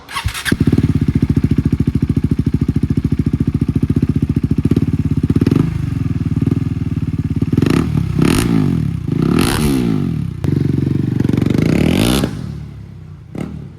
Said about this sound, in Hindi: ड्यूक 390 BS4 विदाउट एग्जॉस्ट आवाज़ सुनते कैसा आ रहा है